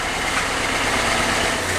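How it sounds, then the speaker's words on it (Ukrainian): A car's engine idles steadily in a repair shop after work on it, a continuous close, even hum with a low rumble and no talking. "Мотор працює зараз рівненько"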